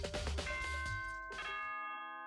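A two-tone doorbell chime from the video game Danganronpa rings out clearly on its own, each bright tone ringing on and fading slowly with no talk over it.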